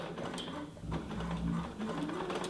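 Sewing machine stitching the collar and facings of a cape-coat, a continuous close mechanical whir and clatter with brief dips in speed.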